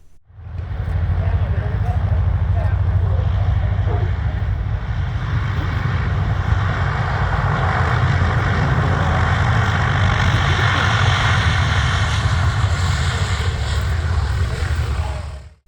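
B-29 Superfortress bomber Doc flying in to land, its piston engines giving a loud, steady, sustained drone that holds throughout.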